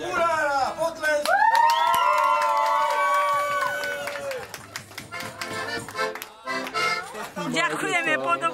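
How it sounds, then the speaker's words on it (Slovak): Crowd at the end of a village Fašiangy carnival parade in Cigeľ, clapping and cheering loudly with whoops and shouts, plus bright horn-like musical tones and voices talking over the noise. "Potlesk!"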